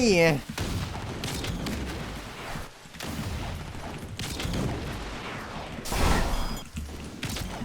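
Gunfire from a blue-tier gun in the Roblox game Blox Fruits, a run of booming blasts and crashes spread across the clip over busy game sound effects.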